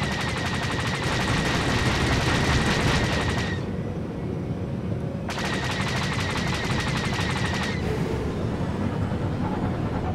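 Rapid blaster fire from starfighters in Star Wars: The Old Republic Galactic Starfighter, two long bursts of fast repeating shots with a short lull between, loud over a steady engine rumble.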